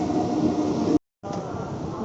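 A train pulls into a railway station, arriving at the platform. A steady, close rumble and roar fill the whole stretch, broken by one brief cut in the sound.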